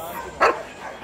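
A single sharp bark from a guard dog cuts through the background chatter of a dog market, standing out clearly for an instant before the crowd noise returns.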